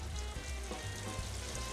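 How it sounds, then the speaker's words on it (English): White wine hits a hot pan to deglaze it during a chicken and rice dish, giving a steady, close sizzle and bubbling hiss that holds evenly throughout, with no talking. "I'm just going to add a cup of white wine to the bottom of this pan to kind of deglaze it"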